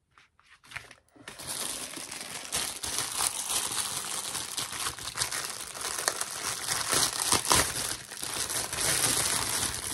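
Paper crinkles and crumples continuously at close range, a dense rustling that starts after a short pause and continues steadily.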